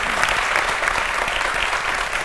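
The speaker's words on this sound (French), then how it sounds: "le public va vous applaudir pour vous encourager." Studio audience on a French-language television talk show applauding, a dense, steady wash of clapping heard loud and alone throughout.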